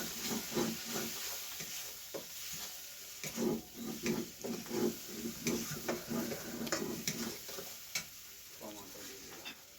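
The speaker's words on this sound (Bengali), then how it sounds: "হলুদ গুঁড়ো, লঙ্কা গুঁড়ো, এগুলো এবার নাড়িয়ে দেওয়া হবে।" A spoon stirs turmeric and chili powder in a hot frying pan for a potol chingri prawn dish, giving rhythmic scraping strokes over a soft steady sizzle, close and moderately loud.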